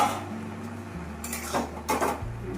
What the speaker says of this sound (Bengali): এবার ঢাকাটা তুলে দেখি কি অবস্থা।